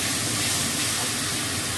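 Garlic paste, made from five cloves ground with water, hits hot oil over fried onions in a pan, giving a loud, brief sizzling hiss that stays steady and broad.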